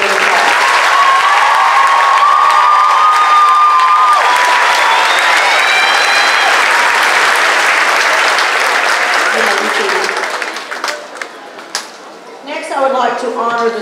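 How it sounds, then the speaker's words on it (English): Graduation audience applauds and cheers for high school students at the 2018 Peabody ceremony, a loud sustained wash of clapping with a few whoops, thinning out near the end as a voice begins. "Let's give these students a big round of applause."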